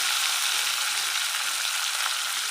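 Curry leaves and green chilies hit hot oil for a dry potato curry, giving a steady, loud, crackling sizzle that holds unbroken from start to finish with no talking.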